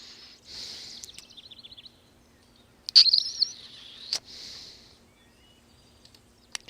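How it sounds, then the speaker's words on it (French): Birds sing in a Harry Potter video game, with short chirping trills and bright tweets arriving in bursts separated by quiet gaps, plus a few sharp clicks, fairly close and without speech. "Les oiseaux qui chantent."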